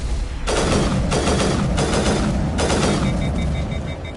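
Rifle fire in Mass Effect Legendary Edition, four heavy, loud, close shots roughly half a second apart, each with a booming body and a brief ringing tail, ending in faint repeated electronic beeps, with no talking.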